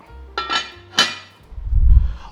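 A metal lid clanks twice onto a cooking pot of creamy hotdog soup, two sharp close clinks followed by a low rumble of heat under the pot.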